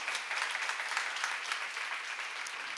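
A church congregation applauds during a sermon at a seminar on Romans chapters 6 and 7, a steady, dense clapping that carries on throughout at moderate loudness.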